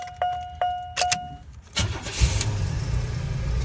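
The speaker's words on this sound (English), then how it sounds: "the car does crank and start." A 1994 Oldsmobile car, with its anti-theft system bypassed, chimes a few times before the starter cranks briefly and the engine catches, settling into a steady close idle.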